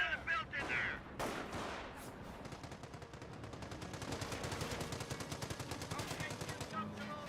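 Machine gun fire in Company of Heroes crackles in a long rapid burst, starting with a few scattered shots and then rattling on without pause, loud and close, with other battle noise underneath.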